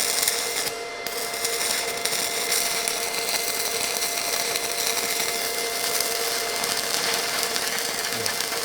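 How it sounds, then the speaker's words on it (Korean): Arc welding with a newly bought welding machine, a steady dense crackling hiss that runs continuously and fairly loud throughout, with no talking over it. "제가 이렇게 해서 용접기를 들고 용접을 한번 해보겠습니다"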